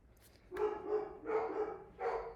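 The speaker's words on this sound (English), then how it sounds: "Sorry about the barking dogs" Dogs bark indoors in three separate bursts of moderately loud, slightly muffled barking from a short distance away, with quiet gaps between them and no speech.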